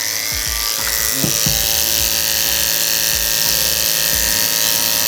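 An electric hair clipper blade runs on a sharpening block, giving off a steady high buzzing whine with brief grinding thuds and scrapes as the blade is worked against the block.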